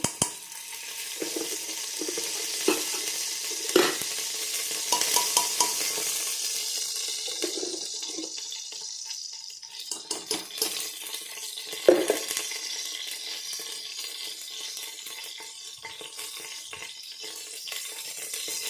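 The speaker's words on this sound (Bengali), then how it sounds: "আমার কুকারটা গরম হয়ে গেছে, আমি এখন আবার দিয়ে দেব ঘি।" Ghee sizzling in a hot pressure cooker while cooking paneer pulao, a steady crackling fry close by with occasional stirring clinks and sharp bursts, no talking.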